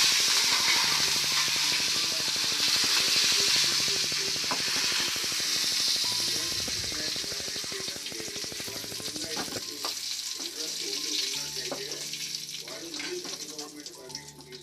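Curry leaves frying in hot oil left over from Guntur-style fish fry, a loud, steady crackling sizzle throughout that eases slightly toward the end, with faint stirring clinks and no talking.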